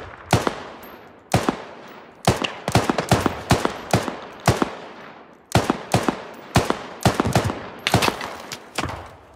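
Gunfire in the Squad video game: sharp, close rifle shots in quick clusters of single and double cracks, each with a short echoing tail, repeating irregularly throughout.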